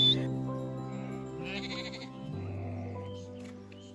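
Goats bleating during medicine dosing on a hill farm near Bageshwar, with a long, loud, wavering bleat that carries through the whole stretch and a brief higher call partway through.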